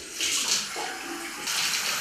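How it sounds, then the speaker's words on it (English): Tap water runs steadily into a clean bathroom sink as it fills, a continuous close hissing splash with slight changes in pitch and no talking. "So we're just gonna let this water fill up in there."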